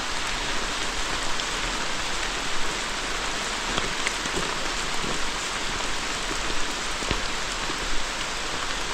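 Torrential rain pours steadily on a tent at a campsite on abandoned coal mine land, a dense, close, unbroken hiss with occasional louder drops and no voices.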